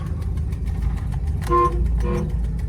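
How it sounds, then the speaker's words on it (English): Two short horn toots from a 1972 Dodge Charger 400 Magnum sound close by over its constant idling engine rumble. "horn"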